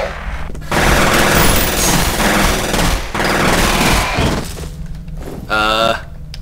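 Heavy gunfire in the video game F.E.A.R., aimed at allied soldiers, roars in long sustained bursts with thuds and breaking sounds, broken by brief pauses and a voice talking.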